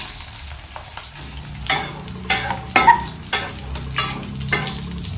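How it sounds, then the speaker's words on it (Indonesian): Chilies, slit open beforehand, fried in oil with shallots and garlic, sizzling steadily with a series of louder crackling bursts about every half second to second as the pan is stirred, no talking. "Cabai sudah saya belah-belah sedikit dengan pisau, jadi tidak akan meletup-letup ketika digoreng."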